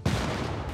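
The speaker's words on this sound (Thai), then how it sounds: "โอเคครับยิง ยิงยิงและยิง" Brief burst of gunfire from units attacking in Civilization VI, one loud shot-like hit at the start trailing into a dense low rumble, all within under a second.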